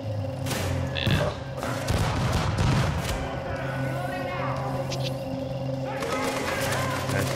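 Gunfire crackles in a Tom Clancy's The Division firefight: bursts of shots and heavy thumps mix with steady game background noise and some spoken chatter.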